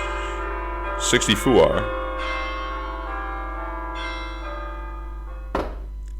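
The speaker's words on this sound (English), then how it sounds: "why is it giving me random bells?" Steady, sustained bell-like tones ring continuously through a podcast recording, with a brief burst of speech early on and a single soft knock near the end.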